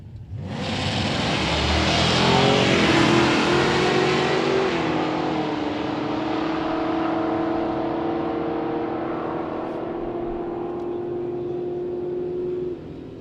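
A drag racing car makes a quarter-mile pass at Sick Week 2023 in Bradenton. A loud engine roar builds quickly as it launches, holds a strong steady drone through the run, then cuts off near the end.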